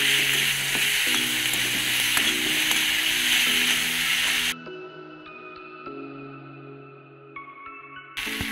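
A Nepali dish sizzling and frying in a pan while being stirred, a bright steady hiss for several seconds that cuts off abruptly, leaving quieter background music.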